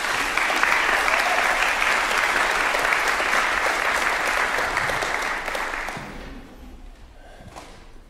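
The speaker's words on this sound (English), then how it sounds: "can we give them another round of applause?" A church congregation applauds for the children in a steady, full round of clapping that tapers off near the end, with a few voices murmuring as it fades.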